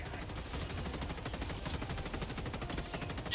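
Steady barrage of mortar fire and gunfire from World of Warcraft, continuous and moderately loud with rapid repeated impacts and no speech over it.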